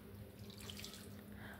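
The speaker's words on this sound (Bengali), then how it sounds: "এবার হাত ধোয়া জলটাই দিয়ে দিচ্ছি" Water from hand-washing is poured into a pot of masoor dal, a steady soft splashing stream running continuously at low volume.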